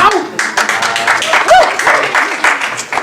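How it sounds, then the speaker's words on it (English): An audience at a trans poet's poetry reading applauds in a warm, full wash of clapping, with voices and cheers rising over it. "I've never had people applaud me for being afraid."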